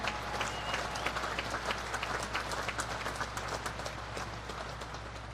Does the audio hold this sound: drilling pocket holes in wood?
no